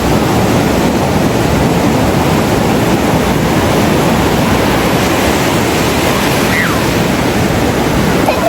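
A steady, broadband rush of cold wind blows without pause, loud and even, with no voices.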